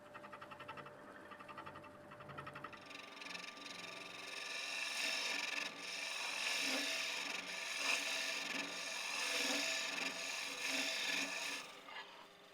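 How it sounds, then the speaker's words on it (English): Hollowing tool cutting into the centre of a piece of wood turning on a lathe: a steady close rasping, scraping cut that grows louder after a quieter start, with no talking. "if I just let the tool eat that away, down the centre there"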